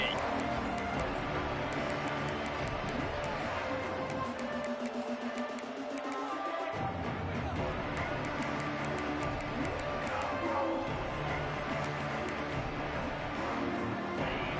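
Stadium crowd noise from a college football video game, a steady loud roar of cheering throughout, briefly thinning in the middle before swelling back.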